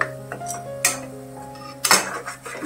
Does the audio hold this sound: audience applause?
no